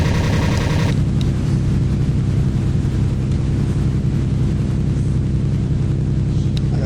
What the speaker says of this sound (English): my airplane will start to shudder, and you'll hear some kind of wind tearing noises